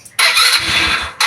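A carbureted motorcycle engine struggling to start in cold weather cranks in a loud, close burst, catches briefly, fades, then cranks again at the end.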